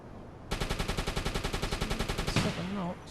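A U-boat deck gun fires in UBOAT, a steady rapid series of about twenty evenly spaced shots, loud and close, ending as a voice calls out over the last moments.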